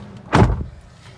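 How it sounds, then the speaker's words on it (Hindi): A Maruti micro SUV's car door is pulled shut from inside, giving a single solid, close thud with a brief rattle after it and no talk. "दरवाज़ा किया बंद"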